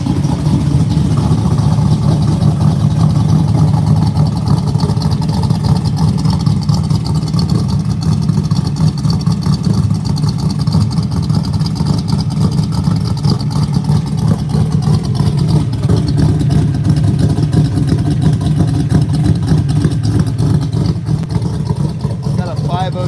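A classic car with a 502 big-block engine and an aggressive cam, running rich on choke, idles loudly and steadily close by with a deep lumpy rumble throughout, while people talk occasionally.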